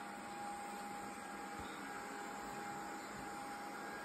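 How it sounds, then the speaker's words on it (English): A Roomba robot vacuum runs in a room, giving a steady whirring motor hum with a constant tonal whine and a few soft bumps, fairly quiet and with no voices. "A Roomba"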